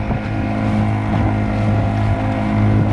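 A Kayak Buddy Version 3 motor drives a Nucanoe Pursuit kayak with a loud, steady hum and whine, wind buffeting the microphone over the continuous drone.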